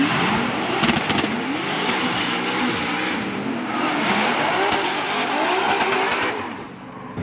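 A Corvette and a BMW E36 race, engines revving hard near and loud with sweeping pitch changes and squealing tires, a continuous roar that fades slightly at the end.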